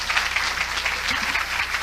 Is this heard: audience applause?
yes